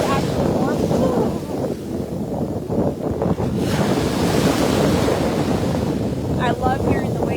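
Ocean waves wash onto a Florida beach in a steady, loud roar of surf mixed with gusting wind buffeting the microphone, continuous throughout with no clear break.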